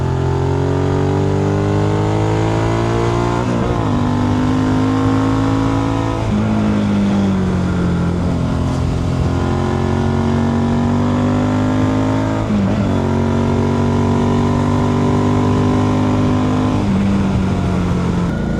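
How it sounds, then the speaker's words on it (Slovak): A motorcycle engine roars steadily while riding through the curvy roads of Orava, pitch climbing with each gear and dipping at the shifts, loud and close throughout with no talking. "fakt, že na druhú motor reve"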